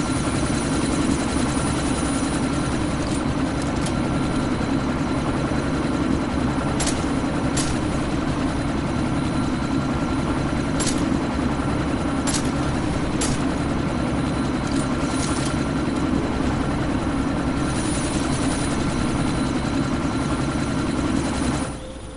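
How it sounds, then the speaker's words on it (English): In the video game Deus Ex: Mankind Divided, a helicopter sits about to take off, its rotor and engine making a loud, steady droning whir that runs continuously for the whole stretch with no voices. "That chopper's about to take off!"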